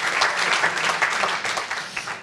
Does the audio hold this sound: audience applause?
yes